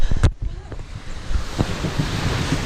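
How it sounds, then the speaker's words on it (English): Rough ocean waves and wind around a sailing boat near the Sardinian islands in shallow water, with a loud splash or thump at the start, then continuous rushing wash and buffeting wind noise. "Pretty intense waves, yeah?"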